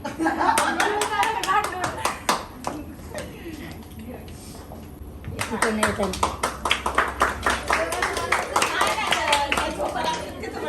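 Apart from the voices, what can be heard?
audience clapping at graduation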